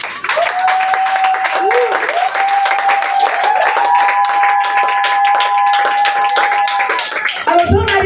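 A church congregation applauds loudly and steadily for several seconds, dense clapping mixed with a sustained sung or shouted voice riding over it, ending with a brief low thump.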